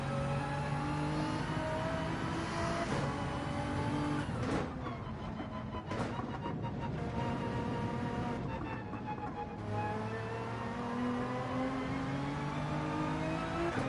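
Race car engine in Gran Turismo 7 holding steady high revs through a curve toward a carousel, with pitch dipping and climbing on shifts and lifts, loud and continuous with no voices.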